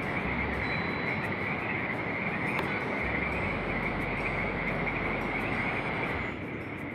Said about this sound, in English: The sounds of the beach. I don't know if those are frogs or insects.